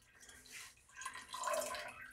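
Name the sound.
water poured into elderflower mead must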